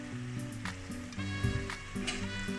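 Chicken simmering in a pot with condiments for Cameroonian poulet DG, a steady close bubbling sizzle that runs without a break, with no voices over it.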